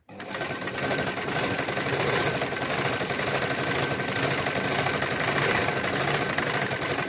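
A sewing machine stitches a pillow cover in a continuous, loud, rapid mechanical chatter that runs steadily close by without a break.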